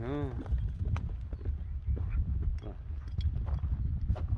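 Hooves of a five-year-old horse clip-clopping in a steady rhythm, close and fairly quiet, with a brief whinny-like tone at the start.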